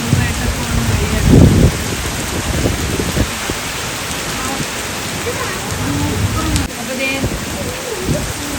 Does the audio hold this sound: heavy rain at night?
yes